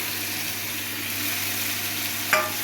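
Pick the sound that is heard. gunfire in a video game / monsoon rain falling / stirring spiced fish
stirring spiced fish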